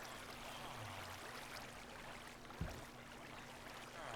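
Water flowing from a block placed in the Minecraft video game, a steady soft trickling wash running throughout at low level, with one brief thud partway through and no talking.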